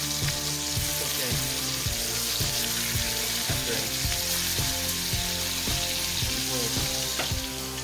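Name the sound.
scallops frying in sauce in a pan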